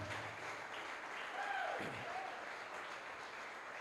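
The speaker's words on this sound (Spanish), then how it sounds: "Alguien aplauda a Dios, porque Dios tiene un propósito." A church congregation at a Spanish-language service claps together, a diffuse, steady applause filling the room, with faint voices and a brief higher tone mixed into the wash.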